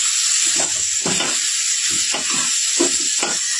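Chopped spinach and vegetables sizzle steadily in a hot pan for a fish-head chorchori, a continuous bright hiss broken by several soft scraping stirs of a spatula.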